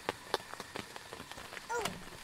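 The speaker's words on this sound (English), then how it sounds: "They have added the sound when it's raining from the tent." Rain patters on a tent at a campsite in Phasmophobia, a soft steady hiss broken by sharper scattered drops, with a brief voice near the end.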